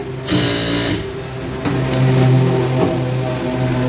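A sewing machine runs steadily for about four seconds, stitching the folded hem of a blouse sleeve, its motor hum and rapid needle rhythm loud and close with brief pauses and restarts.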